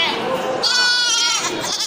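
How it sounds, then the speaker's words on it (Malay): Young kacang goats, an Aceh breed, bleat loudly and close by at a Bireuen livestock market, one long wavering cry after another with a busy crowd murmuring underneath. "ini dua cempe ya, anak kambing."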